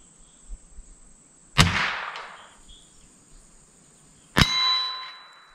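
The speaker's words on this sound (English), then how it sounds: "that gong we just hit" Two bullets from a 1942 US Springfield M2 rifle strike a steel gong, each a sharp shot followed by a bright metallic ring that decays over a second or so, spaced about three seconds apart.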